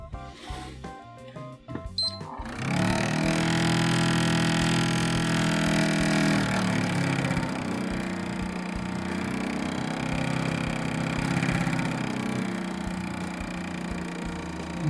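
A disassembled PS3 console's cooling fan, running with its wiring still attached, spins up after a few quiet seconds into a loud, steady, jet-like whooshing roar that holds without letting up.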